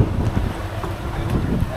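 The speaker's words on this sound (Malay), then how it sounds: "Angin agak kuat guys." Strong wind buffets a fishing boat out at sea, a loud continuous low rumble and roar of gusts against the microphone with no talking.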